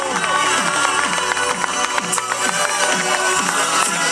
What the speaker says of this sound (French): Et les applaudissements, s'il vous plaît,